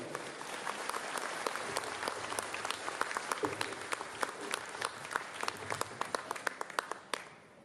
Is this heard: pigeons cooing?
no